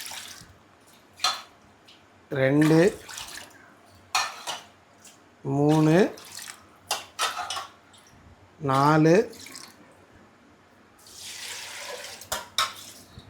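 Water is poured into a pot of rice and lentils for Karnataka-style bisi bele bath: a short rushing pour near the end, after clinking utensils and a voice counting aloud.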